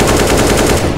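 Rapid automatic gunfire in Counter-Strike: Global Offensive during a competitive match, loud and close, with shots hammering in a steady, dense stream through the whole second and no pause between bursts.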